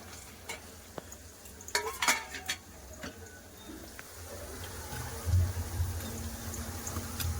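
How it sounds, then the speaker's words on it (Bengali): Fish pieces go into a boiling Bengali jhal curry gravy in a pan, with a low bubbling simmer under scattered utensil clinks and scraping, then a steadier, slightly louder bubbling near the end. "ঝোল ফুটে গেছে ঝোলে মাছ দিয়ে দেবো দিয়ে দিচ্ছি মাছ"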